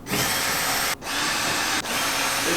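A power drill drives a screw in three close, loud bursts of high whining motor noise, each stopping briefly before the next, with no talk.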